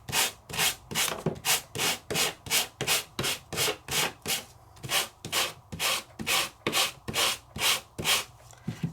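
A die-cut piece is rubbed with sandpaper in quick back-and-forth strokes, about twenty crisp, evenly spaced scratchy swishes close by, with no other sounds.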